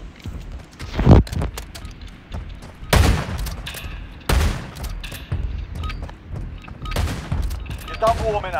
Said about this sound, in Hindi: शॉटगन ऑटोमेटिक चलते रहता है।